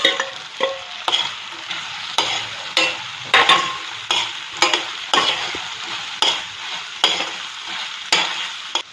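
Fried dry fish is tipped into a sizzling tomato curry and stirred, with a spoon scraping the pan in a steady rhythm of strokes about every half second over a continuous frying hiss, close and clear.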